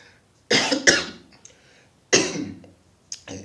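A person coughs in two sharp, loud bursts close to the microphone, each followed by a short trailing rasp and a softer smaller cough, with near silence between.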